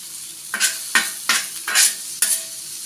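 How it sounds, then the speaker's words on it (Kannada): Okra for sukha fry sizzles in oil while a spatula stirs it, making five loud, evenly spaced scraping bursts over a low, steady frying hiss, close and alone. "ಹಾಗಾಗಿ ಇದು ಎಣ್ಣೆಯಲ್ಲೇ ಫ್ರೈ ಆಗಬೇಕು."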